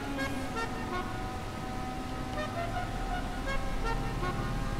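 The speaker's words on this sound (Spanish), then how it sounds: "Oye, tengo el claxon de los..." A car horn toots repeatedly in short bursts over a steady engine drone during a race in the video game GTA V Online.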